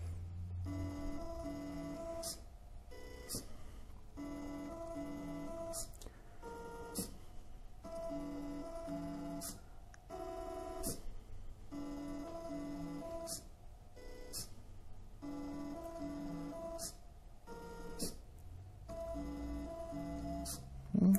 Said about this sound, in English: So as it's printing here, you can see that the two stepper motors, you know, they're rotating.